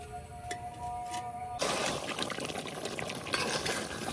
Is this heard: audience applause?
no